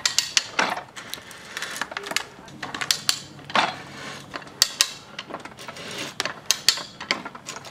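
A cheap manual ratchet pipe threading die, oiled, is worked onto the end of a steel pipe. It gives irregular clicking and ratcheting bursts with scraping metal in between, close and fairly quiet throughout.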